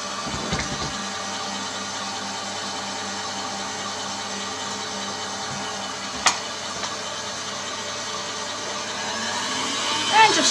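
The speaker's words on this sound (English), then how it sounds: "I've got the egg whites in my mixer. And so now I'm just going to mix these until they, stiff and have nice soft peaks" A stand mixer whips egg whites toward soft peaks for a Saxon cheesecake, its motor giving a steady, close whirring drone that holds for the full length and swells slightly near the end.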